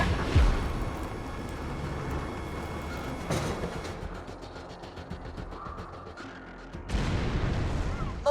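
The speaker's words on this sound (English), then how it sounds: "Please fire the cannon again." Cannon blasts in Borderlands 2 with a shield active, heavy booms at the start and again near the end over a dense rumbling game soundscape.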